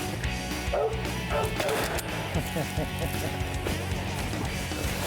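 A hunting dog barks and yips repeatedly during a January squirrel hunt in Carolina woods, with some whimpers mixed in, its voice moderately close under steady outdoor noise while people talk nearby.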